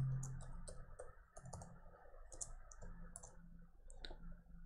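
Computer keyboard typing while entering a name in PCB design software, a quick irregular run of soft clicks, quiet and close, with no voice.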